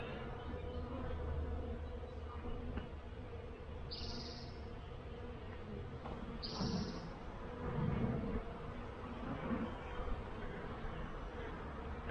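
A dense, low buzzing drone of many bees at an apiary, crawling over hands and a frame, fills the air continuously, with a couple of brief high chirps in the background.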